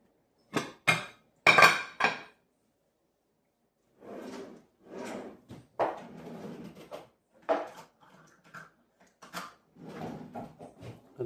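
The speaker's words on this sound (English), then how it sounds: "Stir up my starter here." Sourdough starter stirred in a container with a utensil, giving a series of brief knocking and scraping clicks near the mic, in bursts separated by short pauses.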